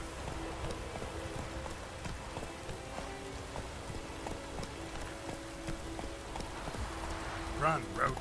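Roach the horse gallops in The Witcher 3 video game, a steady rhythmic clip-clop of hooves beneath continuous game ambience, with a person speaking over it.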